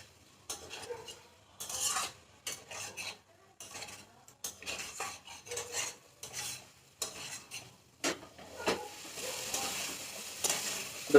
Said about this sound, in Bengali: বাদ বাকি রসুনটাও আমি স্ম্যাশ করে নিয়েছি, এটাও আমি দিয়ে দিলাম। আর আস্তে আস্তে এটা হচ্ছে, একটু মিক্স করিয়ে নেবো মশলাগুলো।